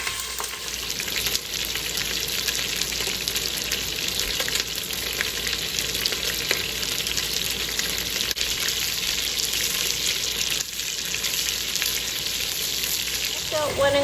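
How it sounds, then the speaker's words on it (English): Chicken pieces browning for adobo in a pan, a steady close sizzle and crackle of frying that runs unbroken throughout with no talk. "I'm going to flip it over and I'm going to brown it on the other side"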